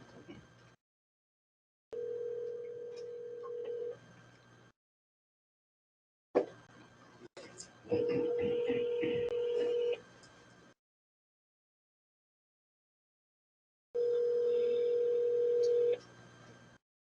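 A telephone call being placed: steady dial tone and repeated ringback tones in long even bursts separated by silence, with brief dialing or clicking sounds in between.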